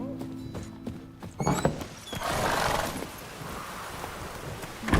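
A horse galloping in The Witcher 3: Wild Hunt, with hoof clatters at first, then a surge of rushing, rumbling noise and a thump near the end, moderately loud with no talk.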